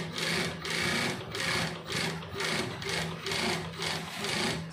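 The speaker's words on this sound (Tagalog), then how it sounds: "banayad lang yung pagtahi, hindi naman natin masyadong bilisan" A sewing machine stitches the back strap of a DJ controller bag, running in steady bursts of rapid mechanical whirring with brief pauses between them, loud and close with no talk.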